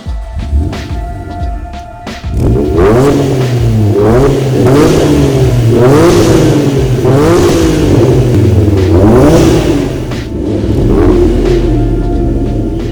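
A 1991 Acura NSX engine revs repeatedly, rising and falling in loud, close bursts over a deep, rumbling idle.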